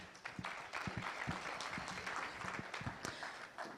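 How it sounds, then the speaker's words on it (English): A crowd claps at a Nairobi Tech Week event, faint and somewhat distant, with a dense even patter of many hands and a few sharper individual claps standing out, continuing without voices for a few seconds. "let's give him one last round of applause"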